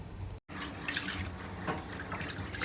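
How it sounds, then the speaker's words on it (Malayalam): Rice being rinsed under a running tap for plain mandi rice: after a brief gap of silence, a steady, close splashing stream of water with small shifting gurgles, alone without talk. "അരി കഴുകാൻ ഞാൻ ഒരാളെ ഹെൽപ്പിന് വിളിച്ചിട്ടുണ്ട് കേട്ടോ."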